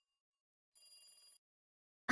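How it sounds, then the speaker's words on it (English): A telephone bell rings in the video game Higurashi When They Cry, one short faint electronic trill in near silence, followed by an abrupt louder burst at the end. "The phone continued to ring."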